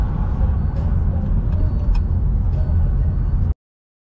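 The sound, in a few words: car driving away from a parking spot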